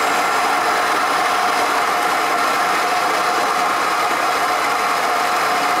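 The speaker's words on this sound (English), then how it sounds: "You see, Bigger Burr has of course a different sound" A Macap M42D espresso grinder with large burrs grinds coffee, a loud, continuous, dense whirring and grinding roar with no pauses, very close and alone.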